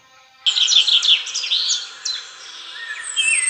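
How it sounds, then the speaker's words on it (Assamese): A flock of bulbul birds chatters in quick, overlapping chirps and trills, close and fairly loud over an otherwise quiet background. "বুলবুলি চৰাই এজাকৰ কলৰৱত সাৰ পাইছে"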